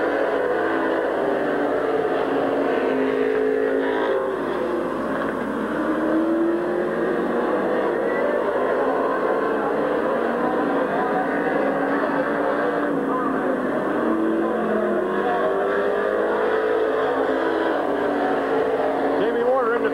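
At Midvale Speedway, race cars circle the track with a continuous roar of engines, and a commentator's voice runs over it throughout.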